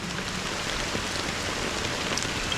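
Steady rain falls in a constant, even hiss of drops with no pauses, soft and moderately quiet.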